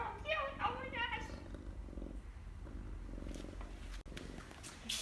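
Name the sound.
cat purring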